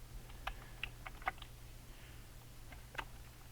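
Scattered light key clicks from someone typing on a computer keyboard for a level editor, faint and irregular over a steady low hum, with no talking.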